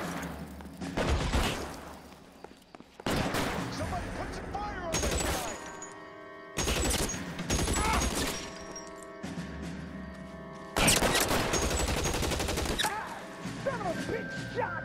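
Gunfire in the video game L.A. Noire comes as several loud, close bursts of shots separated by short lulls, with crashing and shattering impacts mixed in.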